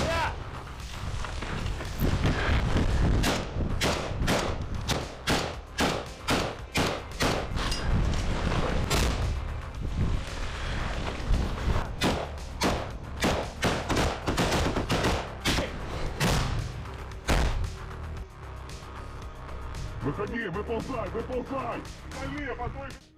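Dense bursts of gunfire crack repeatedly over a rumbling battle din, with a voice talking throughout.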